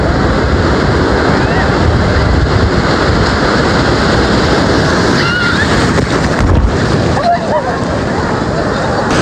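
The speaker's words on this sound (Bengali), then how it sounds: "ढेउ आ रहा है गाइस, ढेउ आ गया ढेउ आ गया।" Sea waves surging at Digha beach, a loud continuous roar of surf and splashing with wind buffeting the microphone, while people shout and talk excitedly over it.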